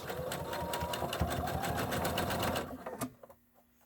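A sewing machine back-stitches a zipper bag, a close, busy mechanical chatter that runs steadily and then cuts off near the end, leaving quiet.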